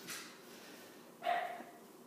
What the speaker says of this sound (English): My dog is barking at the door to get in.